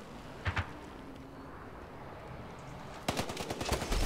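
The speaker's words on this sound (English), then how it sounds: "where are we getting shot from?" Gunfire in the Battlefield Hardline multiplayer shooter: a couple of distant shots early, then a loud, close rapid automatic burst near the end over faint background noise.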